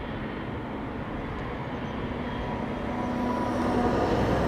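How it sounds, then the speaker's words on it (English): A KLM Boeing 777-300 departs Amsterdam Schiphol Airport on a flight to Delhi, a broad, distant jet-engine roar that slowly swells and grows louder throughout. "This is KLM flight 871, 777-300 will be leaving to Delhi."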